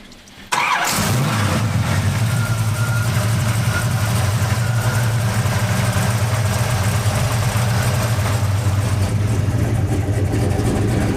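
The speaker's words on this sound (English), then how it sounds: "we're going to actually hear and see what the engine does and how it sounds" A 1967 Chevelle SS 396 frame-off resto-mod fires up after a short pause, then settles into a loud, steady, rumbling idle held close for the rest of the clip with no talking.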